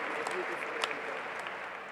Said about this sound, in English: Welcome with a big round of applause, all the youth ambassadors.